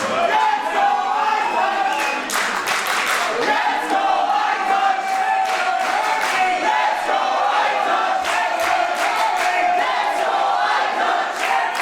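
A dense, roaring crowd at a GWF Light Heavyweight World Cup 2022 pro wrestling show, mostly backing Aytac, cheers and chants loudly and without pause, with repeated shouted surges rising over the sustained din.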